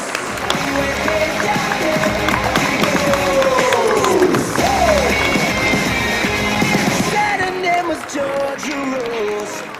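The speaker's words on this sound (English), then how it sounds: "keep those applause going" Audience at a Durham Scouts awards ceremony clapping, a dense, sustained round of applause from a crowd filling a hall, fairly loud throughout and tapering slightly near the end.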